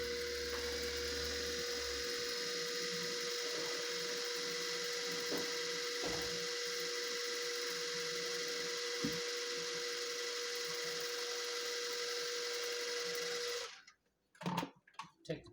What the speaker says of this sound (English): Now we're going to go ahead and blend that for 15 seconds.